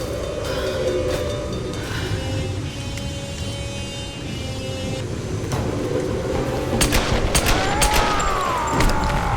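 Rapid bursts of gunfire as Lara shoots in the Tomb Raider reboot, set over a dense, steady game score, with sharp crackling volleys near the end.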